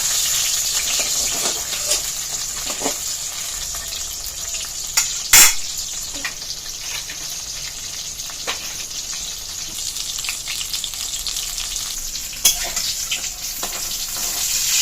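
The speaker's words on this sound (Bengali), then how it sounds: "বড়াগুলো এক পাশ হয়ে গেছে, এবার উল্টে দিয়ে আরেক পাশ লাল লাল করে ভেজে নেব।" Fritters of ash gourd leaves stuffed with dried fish hiss and sizzle steadily in hot oil, with a few clinks and scrapes as they are turned in the pan.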